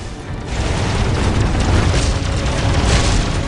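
Gunfire and explosions from the Warhammer 40k: Dawn of War battle game form a dense, loud, continuous roar of booms and blasts that barely lets up, with no clear speech.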